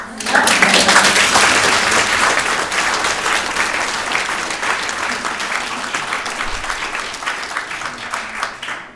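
An audience in a meeting room breaking into sustained applause, loud and dense at the start, then easing into a steady patter of many hands that lasts around nine seconds, with no clear talking over it.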